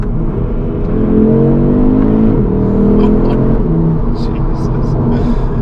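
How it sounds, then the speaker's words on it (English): A 400 bhp 2022 Audi RS3 engine revs steadily and loudly, the pitch climbing and holding high, with a brief dip before rising again. "you can hear the revs have spiked already even without me downshifting"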